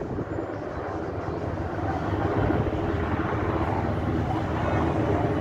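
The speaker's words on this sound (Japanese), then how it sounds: "ヘリが超低空飛行するわ。" A helicopter flying very low over water near a ship, a dense steady engine and rotor roar that stays loud and close, swelling slightly through the sound.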